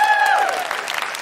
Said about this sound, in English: Big round of applause for Catherine and Sophia.